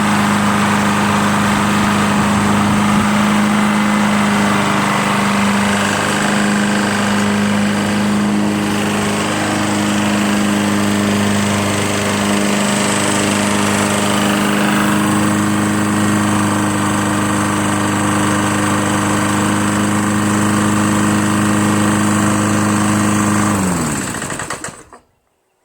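A Lawn-Boy Insight 21-inch self-propelled bagging mower with a Tecumseh 6.5 engine runs at a steady, loud close drone with spinning blades, then winds down and stops near the end.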